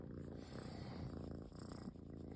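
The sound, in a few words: cat purring while being petted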